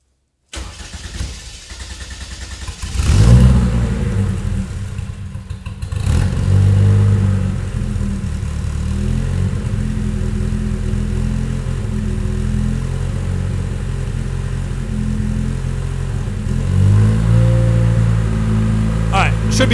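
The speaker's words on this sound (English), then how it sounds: "Let's kick up the idle and try that again." A 2.7L 1AR-FE engine in an MR2 cranks and catches, then settles into a raised, steady idle with a couple of brief revs, loud and close throughout.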